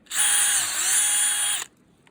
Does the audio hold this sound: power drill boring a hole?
yes